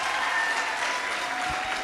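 A school audience at a Boma Day event in Kenya applauds with dense, steady clapping that stays loud and even throughout, a full hall's worth of hands with a little crowd murmur.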